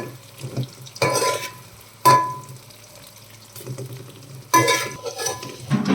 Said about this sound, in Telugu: కాసేపు ఫ్రై అయ్యాక ఇలా కలిపేసుకుందాం మధ్య మధ్యలో ఆగి ఆగి కలుపుతూ ఫ్రై చేసుకోవాలి